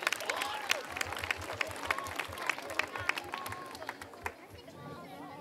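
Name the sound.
applause from audience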